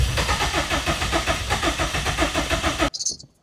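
A Subaru WRX STI with a Link ECU cranks with a rapid rhythmic churn for nearly three seconds, then catches and cuts off abruptly, leaving a brief faint tail.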